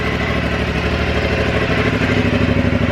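A small engine, housed underneath, runs at a steady idle just after starting, a close and continuous rhythmic clatter with a low pulsing throb and no talk.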